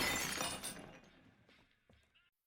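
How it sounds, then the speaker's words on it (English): A flower vase knocked over and shattering on a floor: a loud crash of breaking glass or ceramic, followed by a few fainter clinks of scattered pieces settling. "she accidentally knocked over a flower vase and shattered it on the floor."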